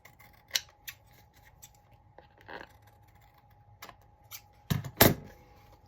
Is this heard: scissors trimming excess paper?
yes